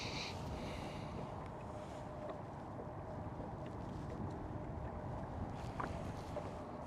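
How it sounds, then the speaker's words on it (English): Steady wind roars and buffets across an open fishing boat on Lake Erie during perch fishing, a constant loud, dense rush with faint water movement beneath and no one speaking. "Wind is moving us all around, but that's okay."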